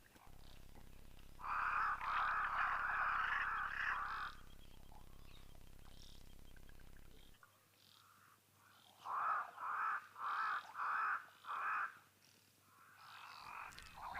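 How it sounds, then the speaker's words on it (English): Cape crows call in the bush in two runs of harsh, evenly spaced caws, a rapid series followed after a pause by a slower string of five or six, moderately distant against an outdoor background. "listening to our morning doves, Cape crows"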